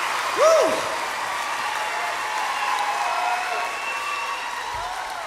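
A concert crowd applauds at a live country music show, a steady wash of clapping and light cheering at moderate level with a brief whistle near the start.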